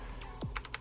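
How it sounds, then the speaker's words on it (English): Computer keyboard keys clack sharply in a few quick, close strikes over a faint tonal game soundtrack, with no voice. "Oh, my keyboard double tapped."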